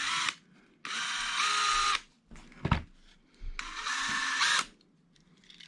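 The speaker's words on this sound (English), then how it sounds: "you can just kind of wiggle the drill around a little bit and it'll kind of" A drill grinds off a rivet head on a Hot Wheels die-cast car, heard as two loud, steady whining bursts of about a second each, separated by a short pause with a few light clicks and knocks, close up.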